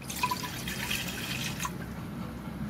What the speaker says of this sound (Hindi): इसके लिए इसे हम बिठाने के लिए हम एक प्रेशर कुकर लेंगे, उसमें 1 ग्लास जितना ही पानी डालेंगे।